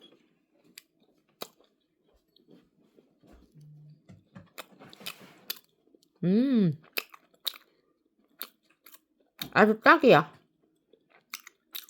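Close crunching bites and chewing of crunchy food in a few bursts at a Korean buffet restaurant, with a person speaking briefly between mouthfuls in an otherwise quiet room.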